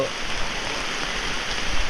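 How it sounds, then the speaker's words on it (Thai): Steady rain hisses continuously, a dense, even wash of falling water with a faint low rumble underneath and no voices. "ฝนอ่อนลงแล้วครับ"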